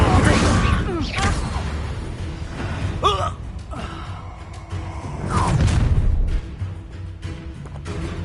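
Levioso and Incendio spells are cast in Hogwarts Legacy: whooshing magical bursts and fiery booms erupt in several waves, with strained vocal gasps and grunts mixed between the blasts.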